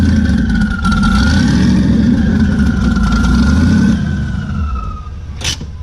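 A turbocharged car engine, nicknamed Leroy the Savage, revving loud and close in a sustained, steady roar that eases off near the end.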